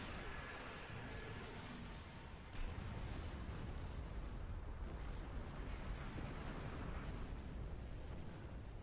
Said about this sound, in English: I do like the Iconian ship's explosion effects.